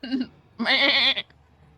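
Goat bleating in a video game: two wavering bleats, a short one followed by a longer, louder quavering cry, close and clear with no talk over them.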